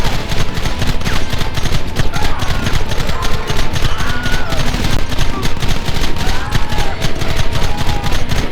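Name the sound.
gunfire in Red Dead Redemption video game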